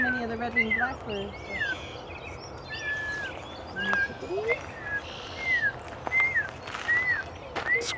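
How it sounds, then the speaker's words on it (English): Red-winged blackbirds call repeatedly in a park, short rising whistles and buzzy notes scattered across the stretch over a busy outdoor background, with people chattering nearby. "That's so many of the red-winged blackbirds."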